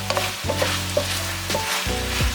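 Rice cake slices with minced garlic and onion being stir-fried in a soy sauce glaze, close-up sizzling pan with repeated scraping stirs in an irregular rhythm, no voices.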